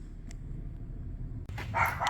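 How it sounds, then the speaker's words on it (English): Dogs bark a few times in short, sharp bursts, fairly distant, over a steady low background rumble, with a busier stretch of barking and noise toward the end. "Ooh, and they got doggos."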